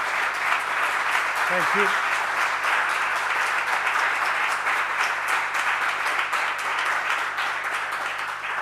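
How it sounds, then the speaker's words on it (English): Conference audience applause at the fourth ECOC edition, a broad, even wash of many hands clapping throughout, with a brief spoken thanks near the start. "I ask one applause"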